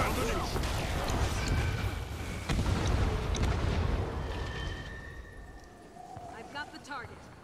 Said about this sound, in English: Red team, ring the bell. Fire all cannons.